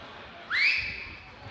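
A single rising whistle by a person in a conference room, short and clear over quiet room noise.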